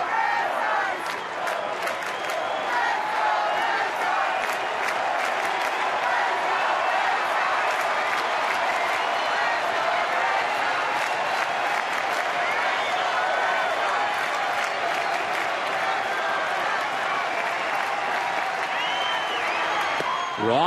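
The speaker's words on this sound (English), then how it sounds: "Fenway faithful being heard from here" A dense, roaring crowd at Fenway Park cheers steadily for the Red Sox against the Yankees in the bottom of the eighth with two outs and the tying run at the plate, a loud sustained wall of voices and claps throughout.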